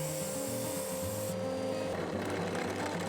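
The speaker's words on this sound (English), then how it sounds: "I use the area closer to the centre that's moving slower to sand off the last little bit" A disc sander steadily rasps against a concrete sign, continuous and close, with a low motor drone underneath.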